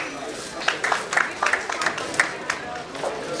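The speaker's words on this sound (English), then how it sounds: "Can we hear a loud round of applause?" Applause from the audience at a 94th birthday celebration event, scattered distinct claps over a crowd murmur, moderately loud, with voices talking underneath.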